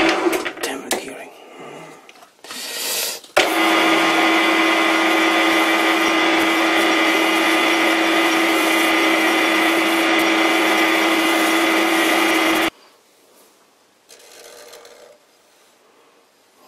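A stainless steel tractor part is buffed with polishing compound on a powered polisher, giving a steady, loud droning whine with a strong hum that runs for about nine seconds before cutting off, with brief handling noises around it.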